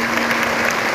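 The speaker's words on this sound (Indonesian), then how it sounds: "Tepuk tangan untuk beliau" Audience applause at an Islamic religious lecture on healing the heart, a steady dense wash of clapping filling the whole short moment with no voices over it.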